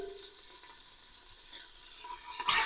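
Chicken pieces for a Provençal chicken with mushrooms dish sizzle and hiss steadily in a hot pan, a constant bright frying crackle that swells louder toward the end, with no voices.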